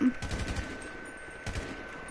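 Gunfire in the video game GTA 5, two quick bursts of rapid shots with a short gap between them, moderately loud and heard without talk.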